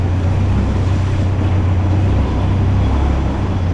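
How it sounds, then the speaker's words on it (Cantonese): Motorboats turn together on a canal at the Damnoen Saduak floating market near Bangkok, giving a loud, close, steady engine drone with water rushing and no talk. "兩隻船一齊轉彎"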